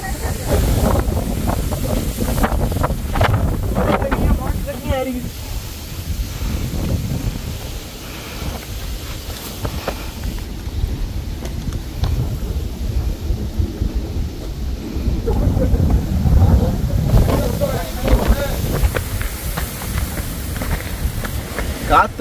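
Strong wind gusts buffet the microphone high on a rocky hill, a loud continuous rumble and roar that swells and eases, with people talking at moments over it.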